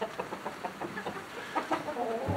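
Backyard coop chickens cluck in short, repeated bursts, several hens close by producing a quick irregular rhythm of soft calls with no talking.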